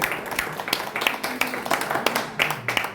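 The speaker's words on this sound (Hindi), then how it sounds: "जोरदार तालियों से एक बार जय सिंह आर्य जी की पुस्तक का स्वागत करें।" At a poetry gathering and book launch in Thimphu, Bhutan, an audience claps for a new book in a loose, uneven burst. Distinct claps sound moderately close over a murmur of voices throughout.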